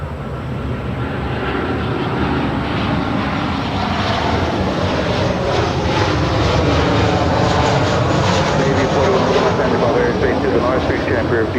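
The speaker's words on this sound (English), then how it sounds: "And that is Southwest Airlines 6512 coming in from Austin, Texas on a 737-700." A Southwest Airlines Boeing 737-700 comes in to land at LAX, its engines a loud, steady broadband roar that holds for the whole stretch, with a voice talking over it.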